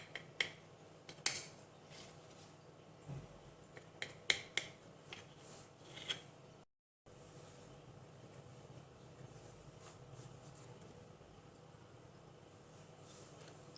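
Metal cutlery clicks and scrapes against a plate while slicing a soft, fluffy yogurt sponge cake, giving a few sharp close taps early on over quiet room tone, with no talking.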